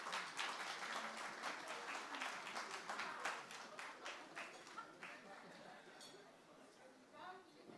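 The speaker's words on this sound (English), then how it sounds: "Let's give him a round of applause," Audience applause at a fundraiser gala dinner, a full room clapping steadily and loudly, then thinning out as a voice begins speaking over the last claps.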